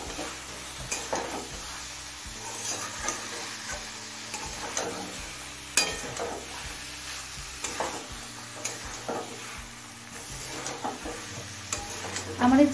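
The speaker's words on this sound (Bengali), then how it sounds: "গরম মশলার গুঁড়োটা নেড়ে চেড়ে মিশিয়ে নেব।" Garam masala powder stirred into a simmering curry of chicken liver and stomach, with a soft sizzle under repeated scraping stir strokes and light taps of a spoon against the pot.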